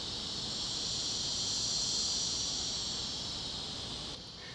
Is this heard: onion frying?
no